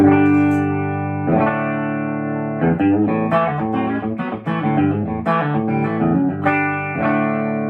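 A clean electric guitar through a tube amp, reverb on 3 and tremolo off, plays sustained chords and a short melodic run, with a touch of reverb, alone.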